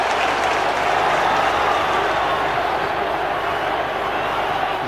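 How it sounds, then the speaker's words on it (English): A football crowd at a 1995-96 Middlesbrough v Newcastle United match applauds Wilkinson: a steady, dense wash of clapping from a large stadium crowd, holding at an even level throughout. "he encourages the crowd to applaud Wilkinson"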